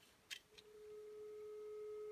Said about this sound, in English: And there's the dial tone.